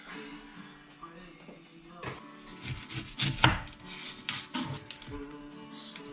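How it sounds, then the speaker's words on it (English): Onion being chopped with a knife on a board, a run of quick, uneven blade thuds and taps growing busier midway, close up, with some voice in the background. "So I'm just going to get this onion nicely chopped."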